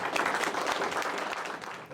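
Applause from a Tea Party group meeting audience, a steady wash of clapping that carries through the whole stretch and fades a little toward the end.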